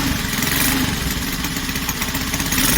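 Engine of a Honda CT70 Dax copy motorcycle running loud and close at revs, a continuous dense roar with a steady throb and no pauses.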